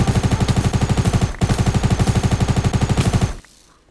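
Rapid automatic gunfire in Minecraft rattles continuously, loud and close, with a brief break midway before the burst cuts off to quiet.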